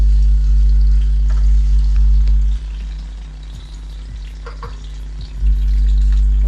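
Five or six chopped garlic cloves frying in hot oil give a close, steady sizzle with occasional stirring clicks and scrapes; the sizzle dips briefly midway before rising again, and no one speaks.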